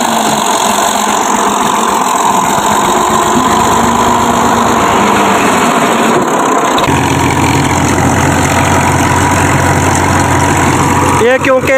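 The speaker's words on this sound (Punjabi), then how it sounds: "ਇਹ ਟਰੈਕਟਰ ਆ ਗਿਆ ਵਿੱਚ ਦਾਖਲ ਹੋ ਗਿਆ" A tractor rolls into a harvested sesame field with its engine running loud and steady, a constant close drone throughout, while someone talks over it.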